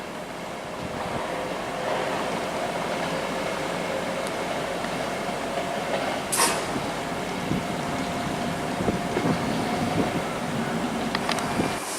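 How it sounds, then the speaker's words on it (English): A freight train passes through Warrington Bank Quay station on the West Coast Main Line, a broad steady rumble and roar lasting about twelve seconds, with occasional sharp metallic clicks and squeals riding over it. "first freight train and the last freight train, which should be coming through here"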